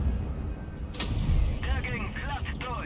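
A tank gun fires once in World of Tanks Blitz, a single sharp blast about a second in. It sits among the game's steady engine rumble and battle noise.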